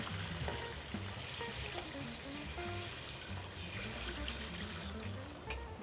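Water pours steadily into a cooking pot for kalamansi sinigang, a continuous close rushing and splashing that fills the whole stretch alongside faint kitchen sizzle and a soft musical tone.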